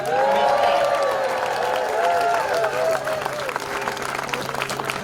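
Outdoor rally crowd in Concord, Massachusetts applauding and cheering the organizers, a broad sustained wash of clapping with whoops, while a voice carries over the top through a PA.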